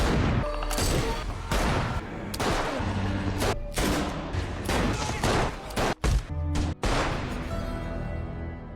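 Rapid gunfire from The Last of Us weapons, dense bursts of shots and heavy booms packed together, loud and continuous with only brief gaps.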